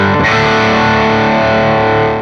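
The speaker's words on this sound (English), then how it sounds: "get some great overdrive tones" A heavily distorted electric guitar chord rings out loud and sustained through a Milkman Sound Amp 100's overdrive, thick and buzzy, slowly fading.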